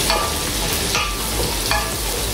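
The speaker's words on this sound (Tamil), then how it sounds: "இந்த வெங்காயம் நல்ல பொன்னிறமா வதங்கற வரைக்கும் நம்ம வதக்கிக்கலாம்" Onions frying in oil for mushroom biryani, a dense close sizzle broken by a few sharp scraping strokes as a spoon stirs them around the pan.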